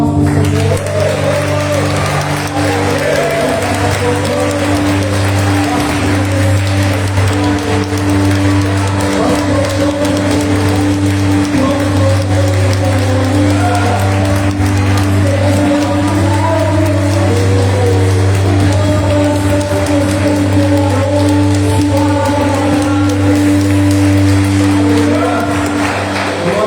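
A church congregation applauds during a worship celebration service, with sustained, dense clapping that runs unbroken from start to finish over a steady instrumental backing.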